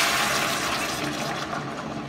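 Water is poured into a pot of pumpkin pieces with olive oil and salt for pumpkin cream soup, a steady, close, rushing splash that holds on for the whole moment with no voices.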